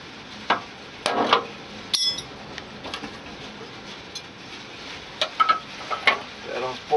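Small hammer tapping a metal air hose fitting on a semi-trailer air suspension bag, sharp scattered clinks and knocks at irregular intervals over a quiet workshop background.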